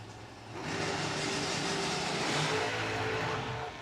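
Drag strip engines rumble steadily at a low idle, a dragster and a four-door race car waiting side by side at a bracket race, the sound swelling in after half a second and holding loud and even before easing at the end.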